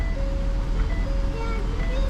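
A truck's warning chime for low brake fluid sounds as a steady tone over a loud, constant rumble from the vehicle.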